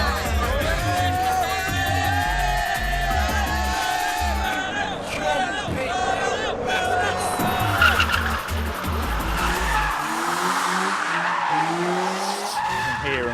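Modified cars at a busy UK car meet, engines revving hard with exhaust pops and crackles under crowd chatter, loud and continuous throughout.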